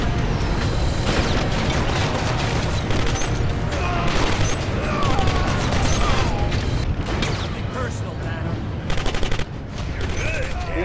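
Heavy gunfire from a boss's weapon in the video game Killzone Mercenary, dense rapid bursts and booms sustained throughout at high loudness with layered mechanical clatter and no talk.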